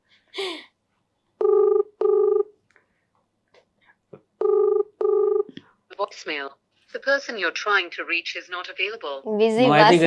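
A phone call rings out in two paired ringback tones, repeated twice with silence between, while waiting for pickup, before people begin talking.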